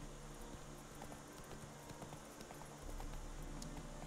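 Roach the horse walks in The Witcher 3, hooves clip-clopping in a steady rhythm, faint and somewhat distant beneath a low hum of game ambience.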